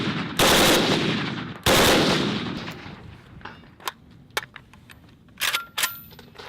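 A milled Kalashnikov rifle in 7.62x39 fires two loud, booming shots with long echoing tails, followed by faint clinks of brass casings landing and mechanical handling clicks.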